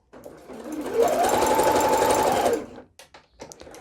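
A domestic sewing machine runs a zigzag tension-test stitch in one continuous whirring, rattling burst of about two and a half seconds, close and loud. It ends in a few soft clicks and handling noises.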